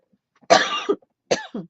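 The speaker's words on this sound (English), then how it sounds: "I was starting to have a coughing fit" Two short, harsh coughs close by, the second a smaller follow-up after a brief pause.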